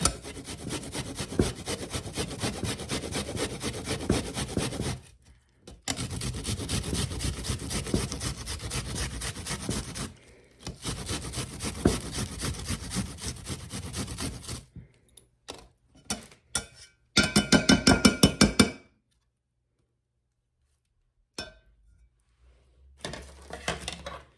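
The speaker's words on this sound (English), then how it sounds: "we're going to grate an onion, just a little piece of onion in there" A small piece of onion is rubbed against a grater in a home kitchen while a pantry meal with breadcrumbs comes together. The scraping comes in long, steady bursts separated by short pauses, followed by a few lighter clatters and knocks.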